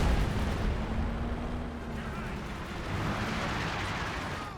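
Brumbar bunker buster assault gun firing in Company of Heroes, a dense rumble of heavy artillery-like booms and battle noise running steadily throughout, with a low tonal engine drone underneath.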